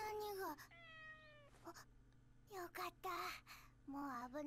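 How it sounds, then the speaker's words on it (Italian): A kitten meows repeatedly in the video game Inazuma Eleven Go Galaxy, several high, bending cries in short bursts, close and clear, with a few brief gaps of quiet between them. "Piccolino quel gattino."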